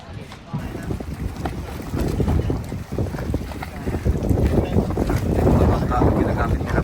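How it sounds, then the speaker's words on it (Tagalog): Strong wind roars and buffets against the microphone while riding near the Hundred Islands, a continuous low rumble that swells toward the end, with faint voices underneath. "Hangin."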